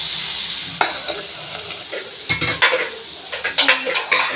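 Ridge gourd is stirred and sautéed in a pan, with a steady sizzle and repeated scraping clatters of a spatula against the metal, close and alone.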